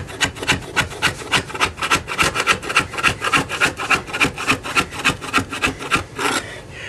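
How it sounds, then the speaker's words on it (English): A stiff putty knife scrapes glued road bed off a model railroad layout in rapid, rhythmic rasping strokes, close and loud, about two strokes per second throughout, with no voices. "I'm just going to take a good stiff putty knife and just scrape the road bed off."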